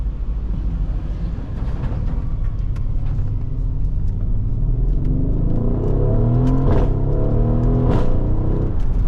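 Mercedes-AMG GLE 63S SUV tuned to about 800 hp accelerating hard, a loud deep engine roar that builds as revs climb, with a rising exhaust note and low rumble throughout.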